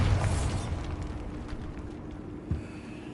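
A Bombarda blasting spell explodes in Hogwarts Legacy, a deep booming burst at the start that rumbles and decays over a few seconds, followed by a smaller thud, with no talking.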